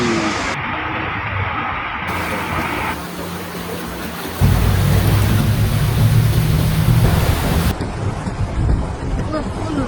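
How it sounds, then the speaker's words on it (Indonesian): Heavy rain lashes down during a storm amid flooding in Kudus, a dense, loud roar of wind-blown downpour that swells midway and stays constant to the end. "Hujan deras yang mengguyur Kabupaten Kudus sejak siang hingga sore hari"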